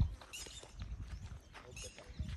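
Horse hooves clip-clop at a steady walking pace while a young horse is worked on voice commands, with someone speaking over the footfalls.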